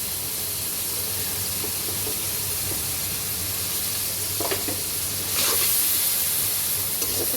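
Chopped onions with salt fry in hot oil, giving a steady, loud sizzling hiss with a few faint stirring scrapes; the sizzle grows stronger toward the end.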